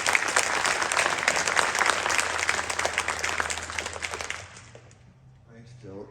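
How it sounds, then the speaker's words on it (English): An audience claps steadily for a speaker being welcomed, the dense applause tapering off after about four seconds before a voice begins. "Let's give him a round of applause"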